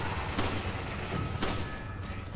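Two sharp gunshots crack out in a video game, the first near half a second in and the second about a second later, each a broadband burst over a steady low rumble of game ambience.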